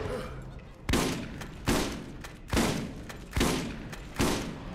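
SMG fire in the Borderlands video game, five evenly spaced bursts at close range, each a sharp hit that fades into a short rumble, over a quiet game background.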